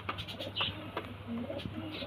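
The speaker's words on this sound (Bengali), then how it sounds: "ঠিক আছে, খুব সুন্দর পায়রা।" A pigeon gives soft, low cooing calls in short repeated phrases, close by but fairly quiet, over a faint steady hum.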